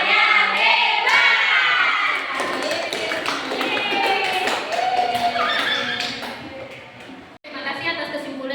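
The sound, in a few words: class of children clapping a 'tepuk hebat' clap chant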